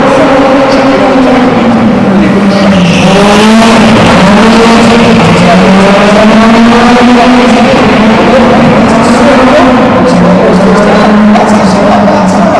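A four-wheel-drive Group B rally car races past, its engine roaring loud and near, rising and falling through gear changes and revs, with tire noise over a steady drone.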